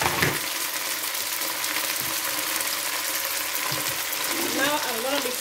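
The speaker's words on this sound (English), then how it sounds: "Now I'm going to be stirring it." Green beans and corn sizzle and crackle steadily in a hot frying pan while being stirred, with occasional scrapes, close up. A faint voice is heard near the end.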